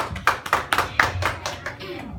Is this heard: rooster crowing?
no